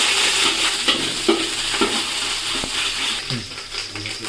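Ginger and garlic paste frying with browned onions in a pan, a steady dense sizzle with occasional light scraping and clinking of a spoon, close and without talk.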